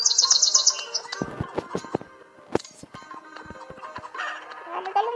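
Brief bird chirps at the start give way to scattered clucks, scuffles and knocks from nearby fowl, uneven and fairly quiet.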